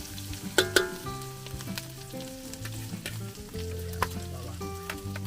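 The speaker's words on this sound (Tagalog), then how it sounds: "magigisa ka muna" Ginger and garlic sizzle and fry in hot oil in a pan, a steady crackle with a few sharper pops, heard close up and alone, with no talk.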